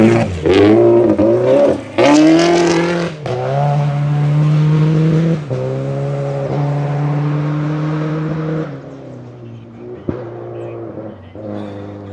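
A rally car on a stage of the Oregon Trail Rally, heard close as its engine revs hard with rising and falling pitch through gear changes, then settles into a steadier drone as it pulls away, loud and dominant.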